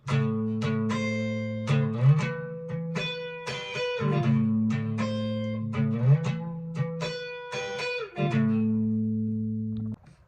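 Clean electric guitar plays a repeating riff with sliding notes, sustained low tones ringing under picked higher notes, steady and close.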